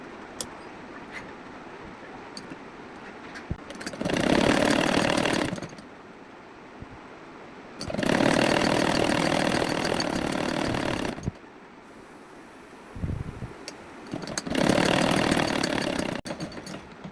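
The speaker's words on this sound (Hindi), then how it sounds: "इस पर भी ऐसे ही सिलाई लगा देनी है।" An electric sewing machine stitches a fabric strip onto a blouse in three separate runs. Each burst of whirring lasts a few seconds, with quiet handling pauses between them. No one speaks.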